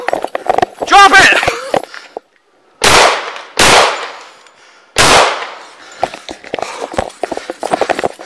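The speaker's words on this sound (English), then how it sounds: "Shots fired, shots fired!" Several sharp, loud gunshots ring out in quick succession during a police confrontation, with a shouting officer's voice before and after the blasts.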